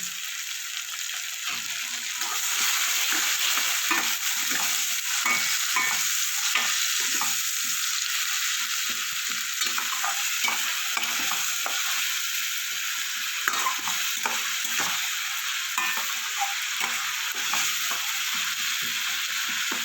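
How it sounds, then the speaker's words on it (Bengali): Spices cooked down with ginger paste and garlic paste for an elephant foot yam curry, stirred in a hot pan with a steady loud sizzle and rhythmic scraping of the spoon throughout, with no talking. "মশলাটা কষিয়ে নেব মাছটা গন্ধটা না যাওয়া পর্যন্ত"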